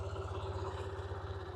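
A motorcycle engine idles steadily nearby, a low, even rhythmic thrum with a faint mechanical whine above it.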